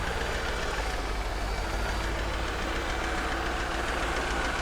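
A Mercedes S55 AMG engine idles loudly and close, a steady, unbroken rumble with a dense, even roar that holds from start to finish.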